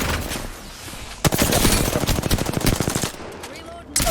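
Rapid automatic gunfire erupts in the battle royale game Apex Legends, a dense burst of fast repeated shots lasting a couple of seconds, loud and close, with softer game sounds before and after.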